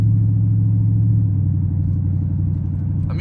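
A Dodge SRT8 Challenger's engine rumbles while driving, a steady, deep, close drone that holds evenly throughout, with a faint rise in higher noise at the very end.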